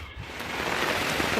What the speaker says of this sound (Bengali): বাইরে প্রচণ্ড বাতাস, প্রচণ্ড ঢেউ এবং প্রচুর পরিমাণে বৃষ্টি হচ্ছে